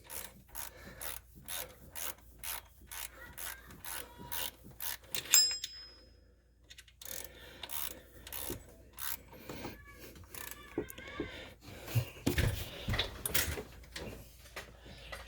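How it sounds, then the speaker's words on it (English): A hand ratchet tightens a bolt during a serpentine belt replacement on a 2006 Ford Explorer V6. Quick rhythmic bursts of clicking are heard up close, then a brief pause, followed by slower, more irregular ratcheting and scraping. "Here's where if you have one of those little battery-powered ratchets or something,"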